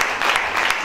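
A church congregation applauding, a brief steady patter of many hands clapping together.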